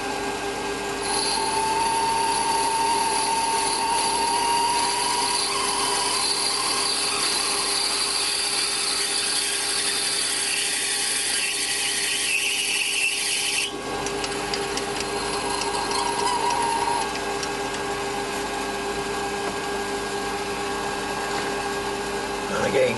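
A steady high-pitched whirring of a 5.8 mm drill bit running continuously during clock repair work, with a brief pause partway through before it resumes.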